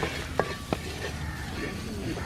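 Coriander powder frying in a pan, with a low continuous sizzle and two sharp scrapes of a spoon stirring it against the pan.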